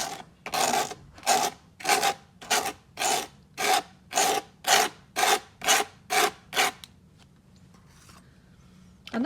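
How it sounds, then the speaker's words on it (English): Spatula scraping tile adhesive onto a board for a mosaic scratch coat: a dozen loud, evenly spaced rasping strokes close by, then a quiet pause, with no talking. "holding the spatula at a 45-degree angle and spreading the adhesive onto the board"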